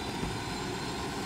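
A continuous, even drone of an aircraft engine from the video game Ghost Recon Wildlands fills the brief moment, steady and unbroken with no talking.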